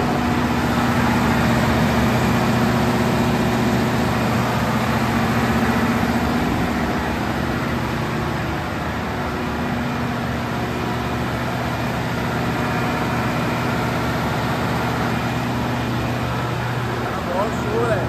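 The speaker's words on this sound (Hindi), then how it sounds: "हमारा जो इंजन रूम है यहाँ पे बहुत शोर रहता है।" Steady, loud machinery drone fills a ship's engine room as a diesel generator runs, a constant low hum with mechanical texture and no pauses for the whole stretch.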